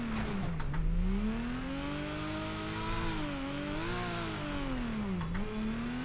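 Engine of a fully built drift car in a racing video game, with heavy camber setup, revving and rising and falling in pitch through a clutch kick in fourth gear, loud and continuous with no talk.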